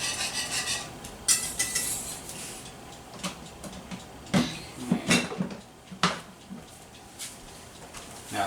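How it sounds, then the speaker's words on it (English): A spoon stirs a bubbling mixture in a pot, making irregular scraping rubs and sharp metallic clinks against the pot sides, fairly close and without speech. "I'm going to give this just a little stir here."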